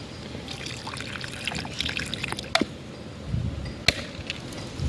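Water is poured from a container on a Gujarati farm, a soft uneven trickle and splash under outdoor background noise, broken by a couple of sharp knocks.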